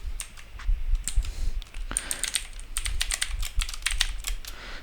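Typing on a computer keyboard while coding, with a fast, steady stream of close key clicks over faint background hum.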